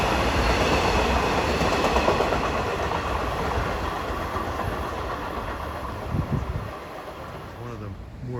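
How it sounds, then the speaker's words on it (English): Commuter train 2712 bound from Hunters Point Avenue to Montauk passes beneath apartments at Kew Gardens, Queens, a loud sustained rumble and rail clatter that slowly fades as it moves off. "Passing under the apartments west of here is train 2712 en route from Hunters Point Avenue to Montauk."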